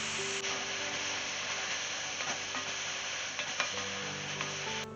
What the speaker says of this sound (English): So I'm going to start this by browning the mushrooms.